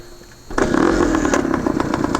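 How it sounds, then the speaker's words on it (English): A 1972 Yamaha RT2 360cc two-stroke enduro motorcycle is kicked over and bursts into a loud, raspy idle through its exhaust, running steadily and close by after a quiet start. "Of all the exhaust systems, this one has the nicest sound"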